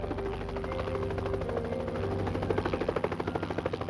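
Rhythmic thudding drone of a helicopter circling overhead during a night search, steady rotor pulsing that grows more distinct toward the end.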